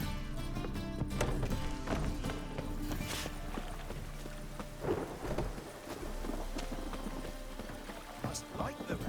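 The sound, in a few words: rain in The Witcher 3 video game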